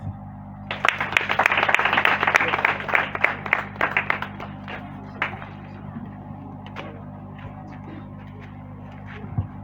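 Audience at a foundation's official handover ceremony for a three-classroom school building bursting into applause, dense clapping for about four seconds that thins to scattered claps, over a steady low hum.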